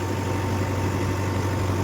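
A Mahindra tractor engine runs at a steady idle, its deep, even rumble and low hum continuing unbroken and fairly close throughout.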